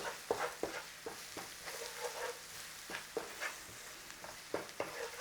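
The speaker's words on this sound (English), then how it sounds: "Just stir that all through and let's have it cooked together." Spices and aromatics for a garlic spinach red lentil curry are stirred in a hot pan, with a steady sizzle and repeated sharp scrapes and taps of the spoon against the pan, close and moderately loud, with no talking.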